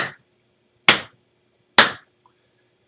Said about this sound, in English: or you can just clap,